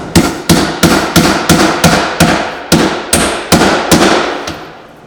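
Nails hammered into keeper flashing during a roof install, about a dozen sharp, loud, evenly spaced blows close by, each ringing briefly before the next.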